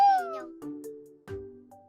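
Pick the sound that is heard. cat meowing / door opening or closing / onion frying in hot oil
cat meowing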